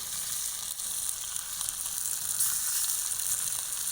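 River catfish frying in oil in a pan over a wood fire, with a dense, steady, bright sizzle that holds evenly throughout at close range.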